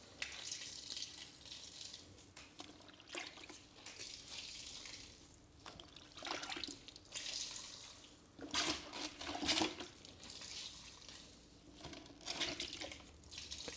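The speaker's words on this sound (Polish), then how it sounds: "Wypłuczemy ściereczkę." A cleaning cloth rinsed under running water in a carpet-cleaning shop, with gushing and splashing that surges and eases in uneven bursts at a fairly quiet, close level. No voices are heard.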